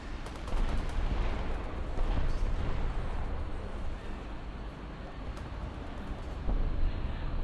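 Bombs and gunfire striking a warship in a warship-versus-tank video game, a continuous heavy roar of blasts and rumbling fire that swells louder near the end.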